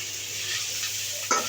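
Small whole potatoes with spices fry in a pan in a steady soft sizzle, stirred briefly with a light scrape near the end, no voices.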